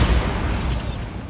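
A Bombarda blast spell in the video game Hogwarts Legacy goes off as a loud, broad rumbling burst that fills the moment and slowly tails off into a dense, noisy wash.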